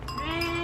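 A single Corsican sheep bleats close by, one short wavering cry with a steady harmonic tone, heard alone on a farm.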